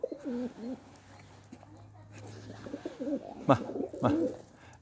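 Pigeons coo softly in repeated low, rolling phrases, with a louder pair of coos near the end over a faint background hum.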